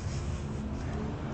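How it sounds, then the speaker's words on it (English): Road traffic rumbles past outdoors as a steady, dense low roar of car engines and tires, continuous and fairly loud with no clear breaks, heard while walking. "Sorry for the traffic in the background."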